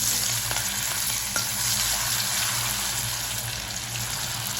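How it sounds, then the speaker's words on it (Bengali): Fish frying in hot oil in a pan, a loud continuous dense sizzle close up, steady throughout with a brief clink, no talking. "একটা মাছ আমি ভালো করে ভেজে নিচ্ছি"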